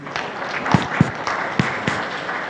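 An audience claps at the Gran Melia hotel launch in Arusha just after a prayer, a moderately loud spread of hands with a few sharper individual claps standing out.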